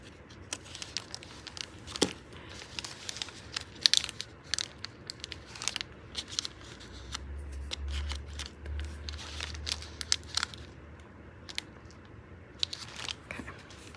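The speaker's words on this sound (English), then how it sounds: "I'm just gonna snip it" Scissors snip grungy packing paper for a handmade journal, giving sharp, close cuts mixed with rustling and crinkling. A low rumble passes partway through, and no one speaks.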